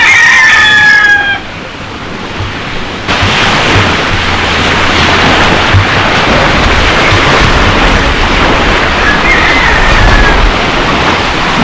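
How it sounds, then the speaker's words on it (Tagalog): Choppy sea at a beach resort, a loud continuous broadband roar of waves and wind filling the whole stretch, with a rooster crowing briefly at the start and faintly later. "Maalon siya."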